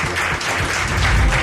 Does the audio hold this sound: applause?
yes